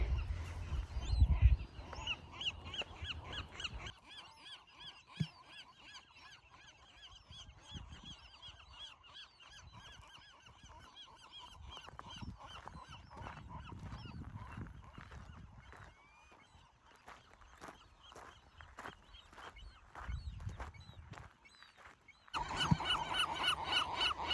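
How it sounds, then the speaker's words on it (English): Seagulls call constantly across a nesting colony on Anacapa Island, a loud, dense chorus of squawks and honking cries near and far, with a gusty outdoor rumble at times. "a lot of seagulls here"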